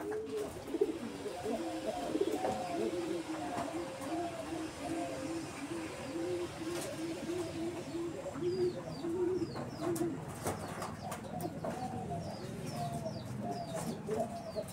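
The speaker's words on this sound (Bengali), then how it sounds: "আর আমাদের বাড়িতে প্রচুর পায়রা আছে, পায়রার ডাক শুনতে পাচ্ছেন।" Pigeons coo repeatedly in soft, rhythmic bursts throughout, with faint chirps of other birds and light background noise.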